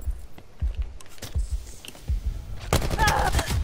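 Gunfire in the Call of Duty Black Ops 4 video game, a rapid run of sharp shots, some spaced and some in quick bursts, louder toward the end.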